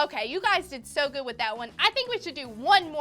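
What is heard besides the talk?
No distinct noise like a dog, phone or traffic.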